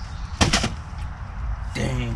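A golf club swings and strikes the ball outdoors with a sharp, loud double crack over steady wind noise, and a voice follows shortly after.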